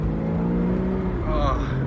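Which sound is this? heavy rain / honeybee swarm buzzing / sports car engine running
sports car engine running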